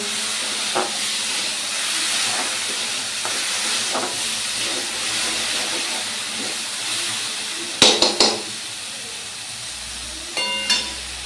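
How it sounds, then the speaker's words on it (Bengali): Mung dal lightly frying in oil in a pan gives a steady, soft hiss and sizzle throughout, broken by a few sharp clinks of utensils against the pan near the end. "এখন মুগের ডালটা হালকা করে ভাজিয়ে নিচ্ছি আমি তেলের উপরে"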